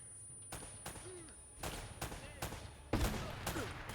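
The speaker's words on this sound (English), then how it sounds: "did he just shoot the wall?" Gunfire from the video game Uncharted: Drake's Fortune comes as several sharp, loud bursts spaced about half a second to a second apart, with a heavier blast near the end, while players talk quietly in the background.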